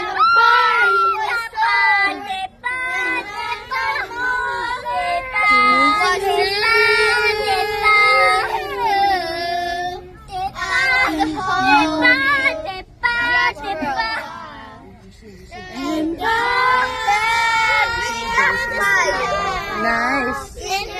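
A crowd of children shouting and screaming in high, voiced cries through most of the stretch, with brief dips and short pauses between loud outbursts.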